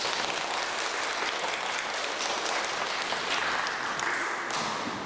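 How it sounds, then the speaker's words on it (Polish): An audience at a lecture gives sustained, dense applause welcoming the lecturers, steady clapping from a full room that holds for several seconds without a break. "gromkimi brawami powitajmy Marka Lansona i Zygmunta Ostrowskiego"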